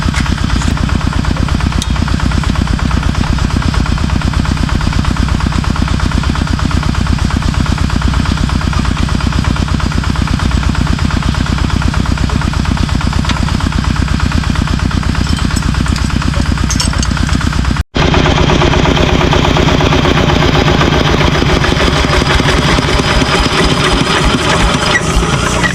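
A farm machine's engine runs steadily at close range, a loud, continuous low mechanical drone with fast vibrating pulses and no speech, broken by a brief cut near the end before resuming with a harsher tone.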